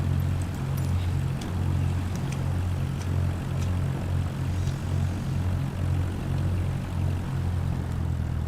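Steady, loud drone of a Cessna 172's single propeller engine in flight, heard from inside the cabin, with a constant low throb and no pauses.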